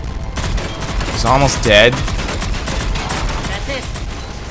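Rapid automatic gunfire bursts in the Mass Effect 3 Omega DLC, loud and continuous, with someone briefly speaking over the shooting.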